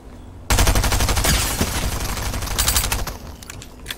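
Rapid gunfire in an online shooter arena match, a sudden loud burst of repeated shots that keeps going for a few seconds before tailing off into scattered bangs, with no voices.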